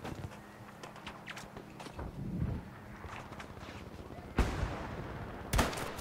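Gunfire in the video game Battlefield V, quiet ambient rumble and footstep-like thuds broken by two sharp, loud shots near the end.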